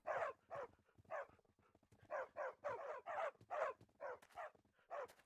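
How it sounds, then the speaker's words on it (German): A crowd of dogs in Minecraft, FTB Revelation modpack, barks loudly and close by in bursts of clipped woofs with short gaps between them, alone with no voices. "wie viele Hunde ich habe, also wirklich übel"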